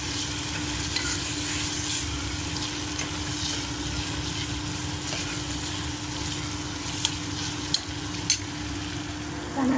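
Tomatoes frying in a pan with ginger-garlic paste for a brinjal and drumstick curry, giving a steady close sizzle with a constant hum underneath, a few sharp clicks near the end, and no talking.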